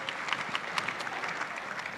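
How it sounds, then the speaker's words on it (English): Gala audience applauding in a large hall, steady dense clapping at moderate distance with occasional sharper individual claps standing out, sustained without a break. "Give them a round of applause, please."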